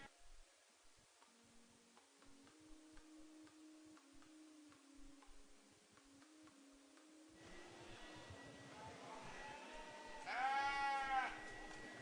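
Breeding ewes bleat at a 4-H beef and sheep show in Olds, Alberta, faint and distant at first, then a nearer, louder bleat near the end, over soft barn ambience.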